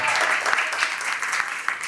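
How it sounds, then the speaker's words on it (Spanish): Audience applause at a student debate in Panama, honoring the moderator: a steady wash of many hands clapping, fairly close and continuous, with no talk over it. "Un fuerte aplauso."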